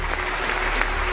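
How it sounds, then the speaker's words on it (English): A theatre audience claps for a volunteer called up on stage, giving a short burst of steady, full applause. "give him a round of applause"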